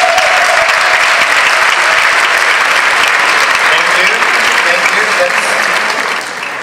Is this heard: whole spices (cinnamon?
no